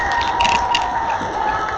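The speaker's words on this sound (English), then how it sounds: "Let's give them a round of applause for that." Crowd noise at a school pep rally, applauding and cheering for the girls team: a steady, loud wash of clapping and voices filling a large space and holding at the same level throughout.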